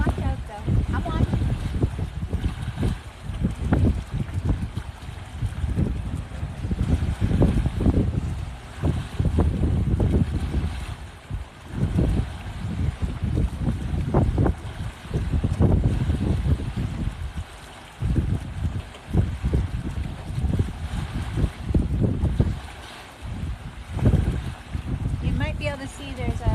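Wind and water rush around a sailboat under sail, a steady broadband wash with gusty surges and splashes throughout, while a person talks intermittently over it.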